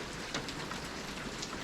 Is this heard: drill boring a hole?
no